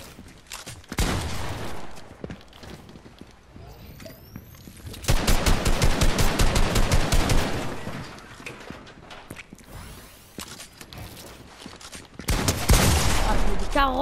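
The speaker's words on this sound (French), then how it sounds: "Ouais, il met des balles de malade." Automatic gunfire in the Fortnite video game comes in several loud rapid bursts, one sustained stretch of evenly spaced shots and shorter volleys later, with quieter gaps between.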